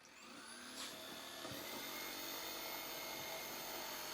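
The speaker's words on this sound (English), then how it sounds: "a simple jigsaw straight across" A jigsaw cutting straight across wood for a small workshop jig, a steady high whining motor buzz with continuous rasping blade noise, loud and unbroken throughout.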